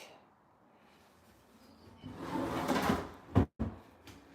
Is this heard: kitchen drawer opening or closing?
yes